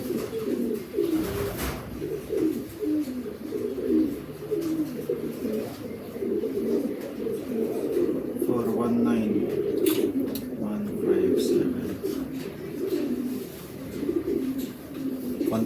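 Racing pigeons coo steadily in a loft after a 305 km south derby race from Ligao, Albay to Dasmariñas, Cavite, a soft, continuous chorus of overlapping coos close by, with faint voices mixed in.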